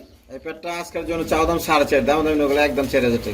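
Pigeons at a seller's pen of about fifty pairs with eggs and chicks coo in low, throaty warbles, close by and partly mixed with people talking.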